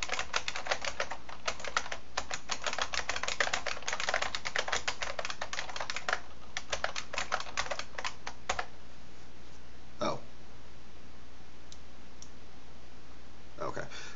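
Username and password typed on a computer keyboard at a Linux machine: close, rapid bursts of crisp key clicks for about eight seconds, then near silence broken by a couple of isolated heavier keystrokes.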